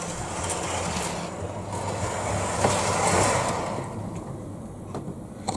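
Model railway train running along a layout track on an incline, a steady close rumble and rattle of small wheels and motor, swelling midway and easing off, with a few light clicks near the end.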